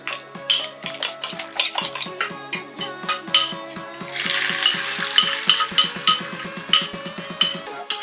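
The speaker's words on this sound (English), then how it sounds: "I'm gonna fry it on low heat" Whisked egg cooks in a pan on low heat amid rapid clinks and taps of a fork or utensil against the pan, with a soft sizzle rising partway through; close and fairly loud, no speech.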